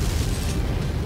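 Missile explosions in the Mechwarrior 5 video game form a loud, continuous booming roar of dense rumbling blasts that fills the moment with no voice over it.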